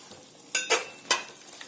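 Masala for Mumbai-style tawa pulao sizzles steadily in a pan on low heat, a soft frying hiss broken by three quick stirring scrapes, close and without talking.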